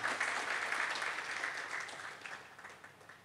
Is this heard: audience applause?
yes